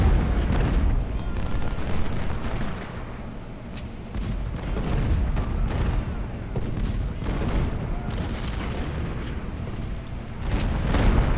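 Cannon and artillery fire in the Civil War strategy game Ultimate General: Civil War, a dense, continuous rumble of booms and blasts with overlapping battle noise throughout.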